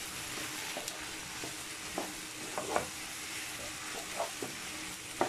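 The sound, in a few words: tomatoes sautéing in a pan for okra sauce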